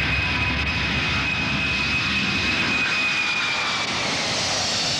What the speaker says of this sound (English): This jet-aged giant, carrying nearly 300 passengers, a testament to the modern era of commercial transport.